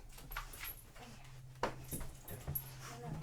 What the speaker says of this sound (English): I really have to get the dog reeled in.